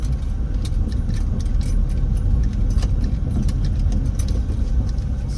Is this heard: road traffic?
yes